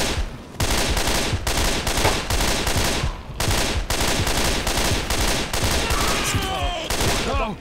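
Sustained automatic machine gun fire in the video game Left 4 Dead 2, loud continuous bursts with brief breaks, close and dominating throughout.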